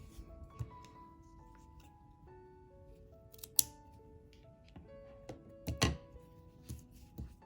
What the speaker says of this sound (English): And now I'll cut this yarn off.